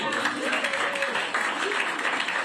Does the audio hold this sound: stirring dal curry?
no